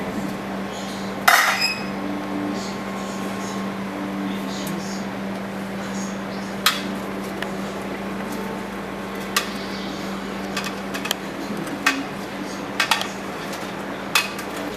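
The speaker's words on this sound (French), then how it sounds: "je remue mon water-leaf avec ma viande pour mélanger les deux" Water-leaf and meat stirred together in a cooking pot, giving scattered metallic clinks and knocks of a utensil against the pot with one sharp clatter near the start, over a steady background hum and faint chatter.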